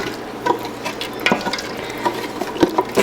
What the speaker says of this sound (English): So we're gonna cook this for about 10 minutes or so until the wine evaporates a bit, and stirring it often.